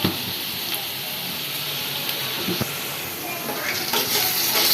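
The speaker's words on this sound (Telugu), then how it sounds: "ఇది ఒక 2 మినిట్స్ పచ్చి వాసన పోయే వరకు వేయించుకోవాలి." Ginger garlic paste and onions fry in a pan with a continuous close, bright sizzle, broken by occasional stirring scrapes, growing slightly louder toward the end.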